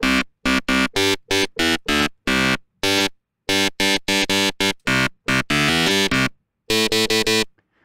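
A second oscillator in NI Massive plays a rapid series of bright, buzzy harmonic notes in a choppy rhythmic pattern, loud and close, with brief gaps between bursts.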